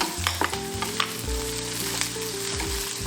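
Cubed onion and curry leaves fry in a hot pan for a Tamil potato fry, giving a loud, steady sizzle. Scraping stirs and clinks of the utensil against the pan run through it, and no one speaks.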